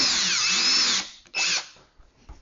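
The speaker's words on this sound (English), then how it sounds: "drill your screw straight into the stud" A power drill drives a screw into a wall stud in two quick bursts, a longer high whirring run and then a shorter one, close and clear with no talk.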